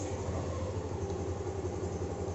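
A 2020 Yamaha NMAX V2 scooter idles steadily close by, a low, even engine hum with a constant rumble and no revving.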